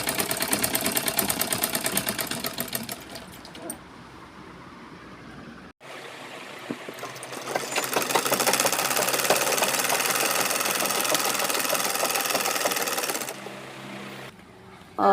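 A sewing machine stitching a suit runs in a steady rapid mechanical whir with a pulsing rhythm, stopping briefly midway, then resuming loud and continuous before cutting off near the end.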